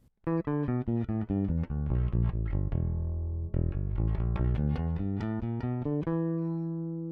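A bass guitar through a DI preamp plays a clean, dry riff of plucked notes with a steady rhythm, ending on a sustained low note that rings out and fades.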